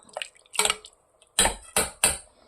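A lid is set onto a cooking pot of millet kitchari with drumstick leaves: a few light metallic clanks and clatters, close and distinct, with short pauses between them.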